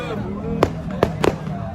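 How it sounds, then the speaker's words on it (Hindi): Fireworks or firecrackers go off outdoors in three sharp, loud bangs spaced under a second apart, with chatter and background noise around them. "पटाखा आ रहा है वो फिर हो रहा है।"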